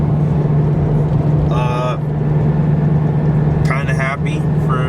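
A tuned Volkswagen MK7 on the move, its steady engine and road drone filling the cabin at a constant level, with brief tonal chirps layered on top twice during the run.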